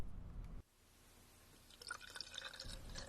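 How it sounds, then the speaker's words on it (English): Windshield washer fluid poured into the reservoir of a 2011-2020 Toyota Sienna, a faint liquid trickle and gurgle with light dripping, quiet and close. "Pour the windshield washer fluid into the reservoir."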